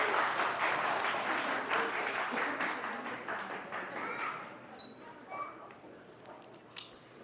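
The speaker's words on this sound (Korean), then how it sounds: "우리 나오신 세 분께 박수 한번 주세요" Church audience applause, a dense wash of many hands clapping at once, loud at first and gradually thinning out toward the end.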